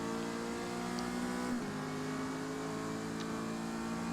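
A Mazda MX-5 in Forza Motorsport runs the front straight at Kyalami in a C-class race, its engine droning steadily at high revs with a brief pitch dip mid-way like a gear change, loud and continuous with no talk.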